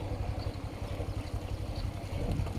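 Car driving along a 14-metre-wide road in Douala-Yassa: a continuous rumbling engine and road noise with a steady low drone and a gusting, wind-like wash, heard from inside the vehicle with no speech.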